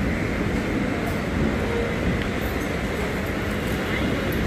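A retrofitted EMU local train running between Nerul and Uran, with a steady loud rumble of motor and wheels heard from inside the coach.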